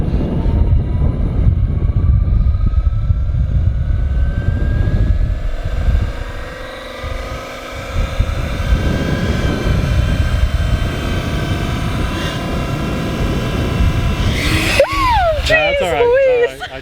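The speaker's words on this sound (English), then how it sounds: "I just throttled up a little too hard." A large Fly Wing EC135 RC helicopter runs up as the throttle is pushed too hard, its rotor and motor sound steady and loud for most of the stretch, with a sharp rising whine near the end and people talking nearby.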